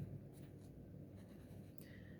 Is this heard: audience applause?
no